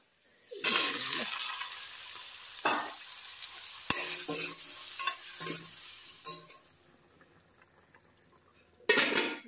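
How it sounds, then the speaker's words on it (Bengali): Taro and fish cooking in a pan are stirred, giving scraping utensil strokes over a steady frying sizzle, with bursts of clatter through the middle and a louder burst at the end. "মাছ দিয়ে কচু রান্না করতেছি"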